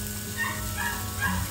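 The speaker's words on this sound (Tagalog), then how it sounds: "hindi mawawala ang sounds ng kapitbahay na aso" A neighbor's dog yips and barks a few times in the distance, faint under a steady background hum during a cooking session.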